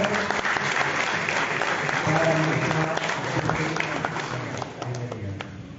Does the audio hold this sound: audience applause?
yes